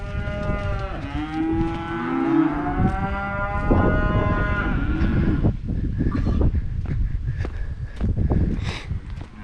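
Calves on a farm during weaning, loud drawn-out moos from several animals close by, overlapping in the first half and then giving way to shuffling and movement noise.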